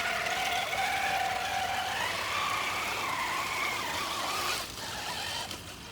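A Traxxas RC monster truck churns through mud and water in a park, its small electric motor whining steadily with pitch shifts and splashing grit throughout, nearby and fairly loud, without talk.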